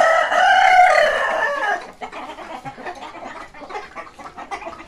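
Free-roaming chickens and roosters: a loud, close rooster crow lasting nearly two seconds, followed by a scatter of busy clucking from several hens.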